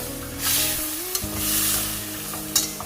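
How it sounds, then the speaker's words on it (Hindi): Minced meat qeema fries in oil in a pan, a soft sizzle with a couple of sharp scrapes of the spoon over steady background music. "कीमा अच्छी तरह से भुन गया है और आप देख सकते हैं कि जो ऑयल है वो अब कीमे ने छोड़ दिया।"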